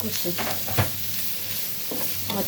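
Green chilli, onion, garlic and fresh ginger frying in a pan, giving a steady sizzle with a few scraping stirs and a louder clatter partway through, close and alone with no talk.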